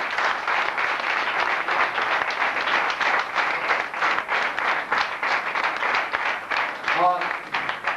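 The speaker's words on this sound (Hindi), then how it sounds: "जोरदार तालियां लगना चाहिए कि आप स्वागत कर रहे हैं किसी का।" Sustained, vigorous applause from a large indoor audience welcoming guests at a police foundation awards ceremony in New Delhi, a dense wash of clapping lasting throughout with a brief voice near the end.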